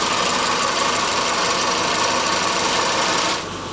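A Subaru engine idles while it warms up after a thermostat replacement, giving a steady close mechanical hum with a fine rapid patter that drops in level just before the end.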